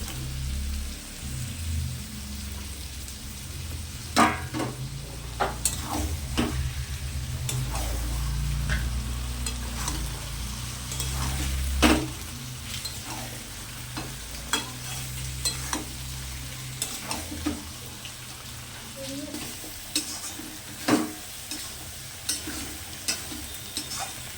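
Pointed gourd (potol) for dorma cooking in a pan, a soft continuous sizzle under a low hum, broken by many sharp scrapes and clinks of a spatula stirring, close and moderately loud.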